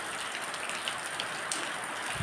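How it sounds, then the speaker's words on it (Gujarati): A steady, soft hiss of light monsoon rain falls on surfaces outdoors, even and continuous, with no voices. "અત્યારે આપણે આવો જ મસ્ત ધીમો ધીમો વરસાદ વરસે છે."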